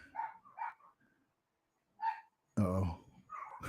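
Dogs at home bark in a few short, sharp yaps, one louder burst near the end, between moments of speech from a nearby person.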